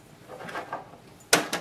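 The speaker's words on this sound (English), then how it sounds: "Open the front door of the printer." Opening the plastic front door of an HP DeskJet printer gives a soft rustle followed by a sharp, close click and a second lighter click near the end, with no voices.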